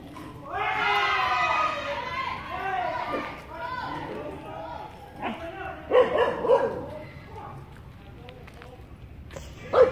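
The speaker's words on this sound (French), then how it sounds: "Les chiens qui ont la même tête que les gros chiens chez nous, mais qui sont courts sur pattes." Small short-legged dogs in Chiang Mai bark and yip in scattered bursts against a busy background, with people talking nearby.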